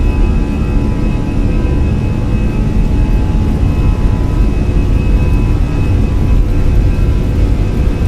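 Fenix A320 engines spooling at takeoff power in Microsoft Flight Simulator, a loud, steady roar with a low rumble and a thin whine held for the whole stretch, no voices.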